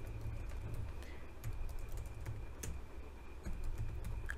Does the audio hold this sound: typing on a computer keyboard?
yes